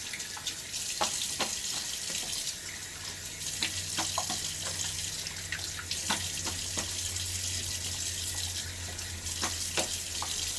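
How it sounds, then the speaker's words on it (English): Tap water runs steadily into a sink during a face rinse after a shave, with intermittent splashes and a low hum underneath, close and alone without speech. "Face rinse."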